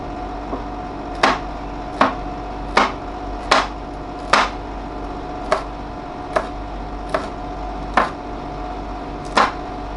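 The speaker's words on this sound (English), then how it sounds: "Cut it into pieces." Knife chopping green chili into pieces on a board for Indomie Goreng noodles: about ten crisp, evenly spaced chops, each a sharp close thud standing alone over a quiet background.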